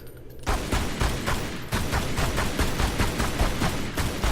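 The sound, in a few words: gunshots in Tomb Raider Anniversary video game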